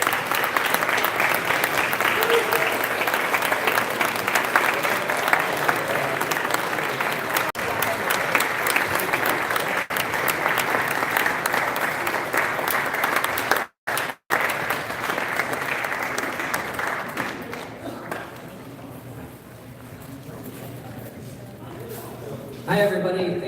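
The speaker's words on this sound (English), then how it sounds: "Give him another round of applause." A large audience claps at an Andrew Yang campaign event at Plymouth State University, New Hampshire; loud sustained applause dies away, with a brief dropout, then quieter murmuring and voices near the end.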